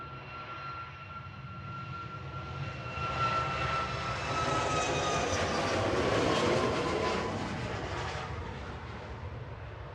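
A SunExpress jet airliner passing at Manchester Airport on its way to Antalya, its engine roar swelling from a distant whine to a loud, broad rush as it goes by, then fading slightly, with no voices.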